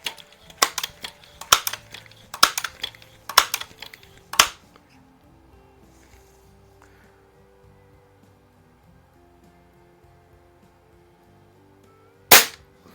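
Crosman 766 air gun firing pellets after repairs, five sharp snapping shots in quick succession over four seconds, then quiet with faint handling noise and one final crack near the end.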